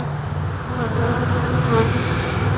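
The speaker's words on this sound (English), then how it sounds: "I got bees on the ground. Still nurse bees are flipping out." Agitated honeybees, nurse bees among them, swarm on the grassy ground near a dropped queen, giving a dense, steady close-up buzz that holds throughout without pause.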